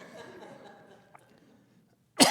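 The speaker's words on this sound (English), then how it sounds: "You know you're getting old when you cough like crazy." A single loud, harsh cough bursts out at the end, after a stretch of quiet, low murmuring background.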